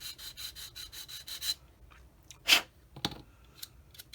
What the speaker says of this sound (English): using a 220 grit sanding stick